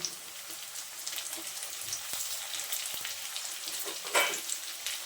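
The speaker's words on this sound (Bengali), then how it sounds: "টমেটোটা একটু নাড়াচাড়া করে ভেজে নেব" Chopped tomatoes fry with onion and green chilli in a pan for a potol, potato and soybean curry, a close crackling sizzle with occasional stirring scrapes and a brief louder burst near the end.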